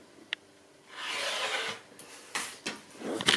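Frayed fabric threads being snipped off the seam of a simple gift bag, heard as close, soft rasping cuts and rubbing with a few sharp clicks and quiet gaps between.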